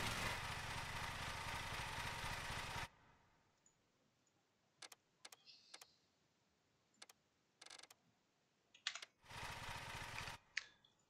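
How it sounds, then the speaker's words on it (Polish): The lawn mower engine in the video game Lawn Mowing Simulator drones loud and steady, cuts out to quiet clicks and ticks, then roars back briefly. "Jaka głośna ta kosiara."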